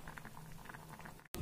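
Rasam bubbling steadily in a pot on the stove, a close, continuous soft patter of boiling liquid that cuts off abruptly near the end.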